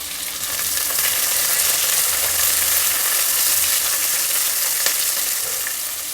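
Cumin, curry leaves and long-sliced onions fry in hot oil as a tempering for spinach pulao, a loud, steady, close sizzle with faint crackles and no talk over it.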